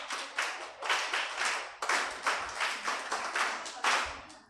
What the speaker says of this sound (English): So clap for yourselves again.